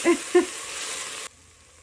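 Carrots sauté in a pot for a chicken and gnocchi soup, a steady close sizzle with a couple of brief stirring clinks near the start, then the sizzle cuts off abruptly and leaves near silence.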